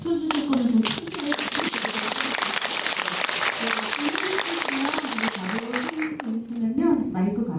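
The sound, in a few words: audience applause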